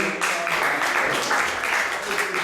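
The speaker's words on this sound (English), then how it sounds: "Let's give a round of applause for Param Prabhu." Audience applause at a temple gathering for a disappearance day observance, a steady wash of clapping filling the room for a couple of seconds with no pauses.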